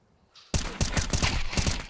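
In a professional Counter-Strike match on the Dust 2 map, a loud, rapid burst of automatic gunfire rattles close by, with evenly spaced shots following a quieter moment.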